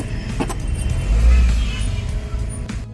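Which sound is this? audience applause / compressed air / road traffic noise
road traffic noise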